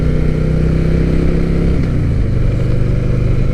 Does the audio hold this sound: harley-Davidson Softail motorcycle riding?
yes